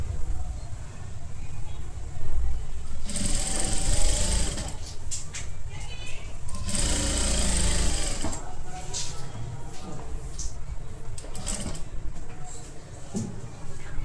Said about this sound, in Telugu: నీట్గా రింకల్స్ ఏం లేకుండా నీట్గా కుట్టేసుకోండి.